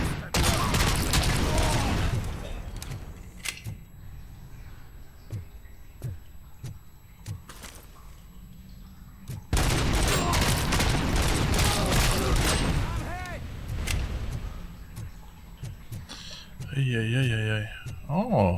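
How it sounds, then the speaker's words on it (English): A grenade explosion and bursts of gunfire in the RoboCop: Rogue City video game ring out loud and close. Heavy blasts and rapid shots recur throughout, with game voices over them. "Grenade!"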